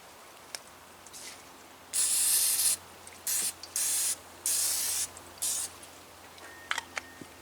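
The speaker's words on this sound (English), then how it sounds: "The best lubricant you can get for pulling wire is spray butter" Spray butter hisses from an aerosol can onto well pump wire as lubricant, one long burst then four shorter bursts in an uneven rhythm, close and steady, followed by a few small clicks.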